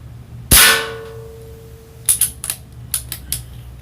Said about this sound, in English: I normally get a good 20 solid, consistent shots out of this one cartridge with this thing out of the Crosman cartridges